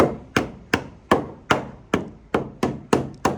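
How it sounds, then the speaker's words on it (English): A wooden block is tapped into a stair frame for steps with a landing off a deck. About nine sharp, close wooden knocks come at an even, steady rhythm, each with a short ringing decay and no talking. "It should go in without any force, just a light tap"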